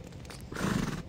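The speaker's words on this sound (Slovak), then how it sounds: "Je to čierny kôň." A black horse gives a short whinny that rises and holds for about half a second, fairly quiet and heard alone after a brief lull.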